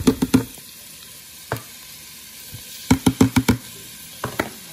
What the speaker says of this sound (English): So I'm just gonna saute this.